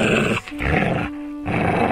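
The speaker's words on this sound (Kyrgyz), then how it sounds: "үрүп ырылдап, тайган боз үйгө чуркап келет" A tazy hound in a cartoon barks and growls near a yurt, a loud close burst with a short break, then a sustained low growl before more barking.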